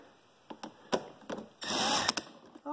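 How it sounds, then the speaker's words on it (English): A power screwdriver drives a screw while assembling a Star Wars Landspeeder toy, with short bursts of clicking and whirring followed by a longer sustained run, close and fairly quiet. "I'll run the old driver here."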